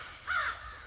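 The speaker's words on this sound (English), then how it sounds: "Crows all around us," A single crow caws once, a short harsh call standing out clearly but at moderate distance against quiet outdoor ambience in the Inwood area of New York.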